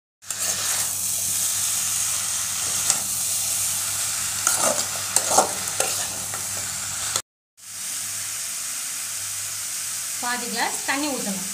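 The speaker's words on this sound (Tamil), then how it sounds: "வேக வச்ச காலிஃப்ளவரை தொக்குல வெங்காயம் தக்காளி தொக்குல போட்டுடணும்." Boiled cauliflower is stirred into frying onion-tomato masala, giving a steady sizzle with scraping spoon strokes. The sizzle drops out briefly, then returns with louder scraping and clatter near the end.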